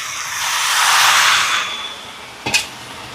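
Coconut milk, the first thick pressing, poured into a simmering pot of potato curry sets off a loud, broad hiss that swells and fades, then a brief clank of a utensil against the pot.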